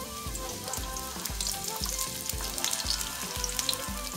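Onions sizzle steadily in a hot pan with beef for jollof rice, a dense continuous frying hiss with rhythmic low scraping strokes of stirring throughout, close and fairly loud with no talking.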